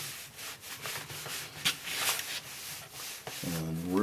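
A damp, soapy cloth is rubbed over a grimy 12-string guitar in quick, close, rhythmic scrubbing strokes, ending with a brief ringing tone as the strings sound.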